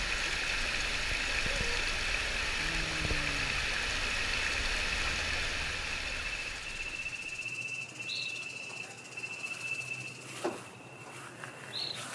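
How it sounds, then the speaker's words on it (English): Warm volcanic hot spring water flows steadily at La Fortuna, Costa Rica, a broad continuous rush with insect chirps above it, softening partway through as faint scattered ticks and drips continue. "Hot springs, it's warm water, volcanic water,"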